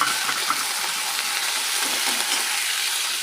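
Chili frying in a hot pan gives a steady, close sizzle with faint stirring scrapes underneath, continuous and even throughout, no voices.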